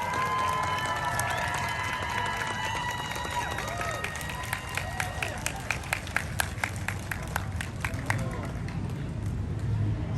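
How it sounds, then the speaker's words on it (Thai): A crowd at an outdoor political rally in front of the Bangkok Art and Culture Centre breaks into applause and cheering to welcome a speaker, with scattered sharp claps rising midway over a background hubbub of voices. "ขอเสียงปรบมือต้อนรับ"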